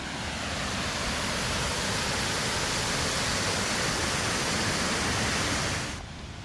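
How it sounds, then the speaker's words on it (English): A powerful, steady roar of rushing water from a large waterfall beside a rental house, continuous and broad, easing slightly near the end. "right next to the Airbnb, there are 2 huge waterfalls"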